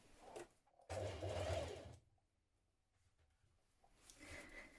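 A sewing machine runs in one steady loud burst of about a second while stitching dress gathers in place on a tiered dress. Quieter handling sounds follow, and then a second, softer run of the machine.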